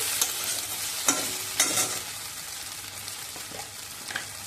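Okra fries in a covered pan over lowered heat, a steady sizzle broken by a few sharp scraping stirs and clatters of the spoon or lid.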